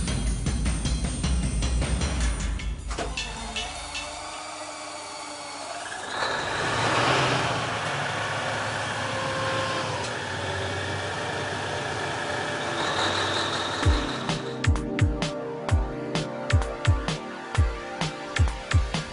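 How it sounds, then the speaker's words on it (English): Big twin-engine Pershing motor yacht, 4,860 horsepower, rumbling steadily as its engines warm up at the moorings, a deep continuous drone with shifting tones, ending in a run of regular low thuds and clanks. "As we cast off the moorings and warm up the engines"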